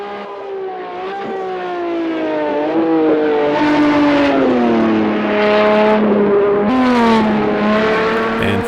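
Old-timey race cars at Le Mans in Project CARS 2, a loud engine drone rising and falling through gear changes, with a second car's note layered over it at close range.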